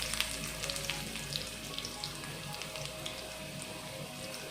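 Chopped shallots frying in hot oil for Kerala pumpkin erissery, a steady soft sizzle with scattered crackles and pops throughout, alone without talk.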